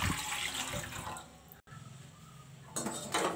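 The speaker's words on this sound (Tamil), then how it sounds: "4 கிளாஸ் தண்ணி ஊற்றிடலாம்ங்க." Water splashes and runs steadily into a metal pot, four glasses' worth, a close, hollow pouring sound with a short break before it resumes.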